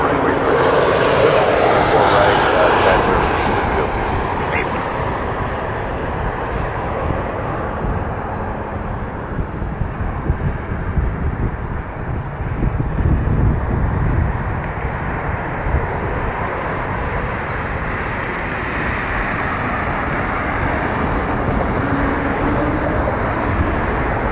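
A passenger airliner roars near Toronto Pearson airport, its jet engine noise loud and sustained throughout, swelling and then slowly easing off while a voice speaks now and then underneath.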